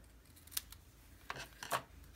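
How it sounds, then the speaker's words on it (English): Scissors snipping through paper while making a handmade card, a few quiet, crisp cuts in short bursts with no talking. "Actually, I think I'll just cut it at that same angle."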